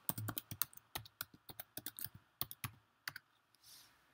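A password typed on a computer keyboard, heard as a quick run of crisp, close key clicks in an uneven rhythm that slows toward the end, quiet overall with no talking.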